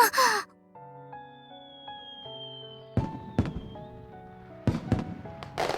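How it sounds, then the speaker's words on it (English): Fireworks at a fireworks show go off in several sharp, booming bursts over soft, sustained music, with the loudest cracks landing near the middle and end. "The fireworks show had begun."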